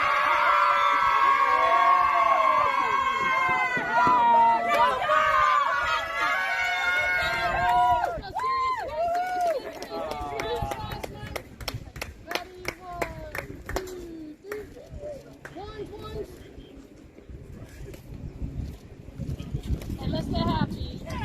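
A tennis team crowd cheering and clapping, loud shouts and whoops at first, then scattered hand claps and excited chatter with voices talking throughout.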